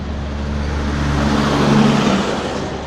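Cars, a bus and trucks pass close by on a concrete city road in Trench Town, Jamaica, a steady engine rumble swelling and fading as vehicles roll past, with no voices.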